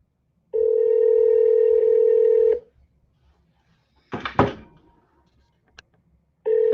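An outgoing telephone call rings on the line: a steady ringback tone sounds for about two seconds, a pause with a brief clatter follows, then the ring tone starts again, loud and clear.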